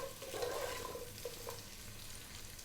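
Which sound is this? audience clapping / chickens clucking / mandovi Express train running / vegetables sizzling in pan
vegetables sizzling in pan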